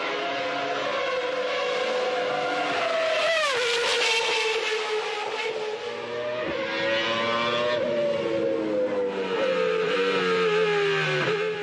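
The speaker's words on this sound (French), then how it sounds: "seul compte le chant du 10 cylindres dans la ligne droite du Mistral" Renault Espace F1 with its 10-cylinder Formula 1 engine on the Mistral straight: a loud, continuous high-pitched V10 wail climbing through gear changes with brief dips, heard from inside the car.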